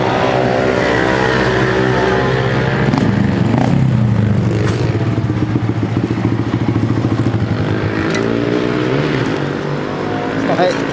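Honda HRC Grom motorcycle running laps on a circuit at Kinki Sports Land, its small engine droning steadily with rising and falling pitch through the whole stretch, loud and close, with voices talking over it.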